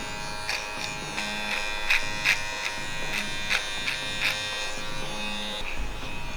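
Electric hair clippers buzz steadily while trimming a beard clip over comb, with repeated brief louder passes as the blade cuts through hair, close and fairly loud throughout.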